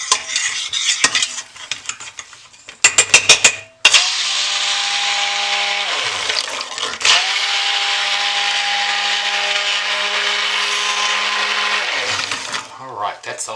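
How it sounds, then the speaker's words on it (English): A stick blender whirs steadily for long stretches, mixing soap batter made with soap scraps toward a thick trace, with a few short bursts and clinks of utensils at the start and pauses where the motor stops and restarts. "I'm going to stick blend this for a long time to get a heavy trace or thick trace"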